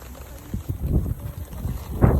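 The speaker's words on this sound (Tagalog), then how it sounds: "Lakas ng hangin!" Strong gusting wind during a storm beside a river, roaring and buffeting close to the microphone in uneven surges, with one louder blast near the end.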